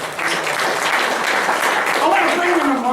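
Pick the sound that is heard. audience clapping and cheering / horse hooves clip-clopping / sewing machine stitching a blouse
audience clapping and cheering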